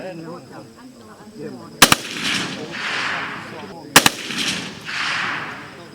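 Live-ammunition shooting practice at a military command training range in Laos, with two sharp, loud gunshot bursts a couple of seconds apart, each followed by a rolling echo, over a background of people talking.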